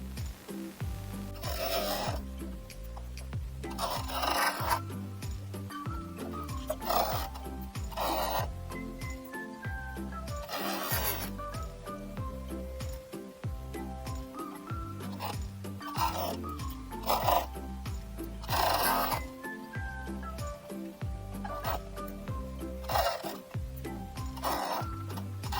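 A sewing machine stitching the pinned pieces of a dog sweater: rhythmic mechanical whirring and ticking in repeated bursts, broken by short pauses and rustles of fabric being repositioned, close by and steady, with no talk.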